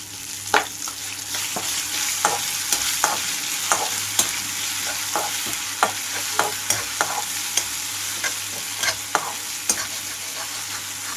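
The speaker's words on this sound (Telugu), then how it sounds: "నేను గ్రైండ్ చేసి పెట్టుకున్న కొబ్బరి అలాగే మామిడికాయ పేస్ట్ని ఇందులోకి వేస్తున్నాను" Coconut and raw mango paste frying in a hot tempering, a steady sizzle with repeated sharp clicks of a spoon stirring against the pan, close and alone.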